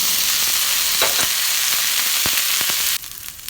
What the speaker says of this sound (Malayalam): അത് 10 20 ചെറിയ ഉള്ളി നന്നാക്കിയത് ഇട്ട് കൊടുക്കാം.